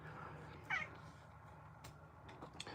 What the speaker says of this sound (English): He's got the most feminine like meow for like a mean male cat